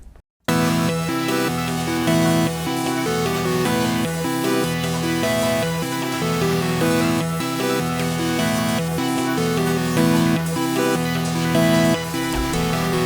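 A full trap beat melody in a hard style, layered from Thermal synth presets, plays loud and steady with a repeating bright pattern over deep bass hits, with no talking.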